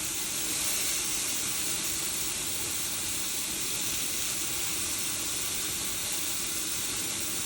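Meat sizzles and hisses steadily in a stainless steel frying pan, a dense, continuous close-up frying sound with no talking.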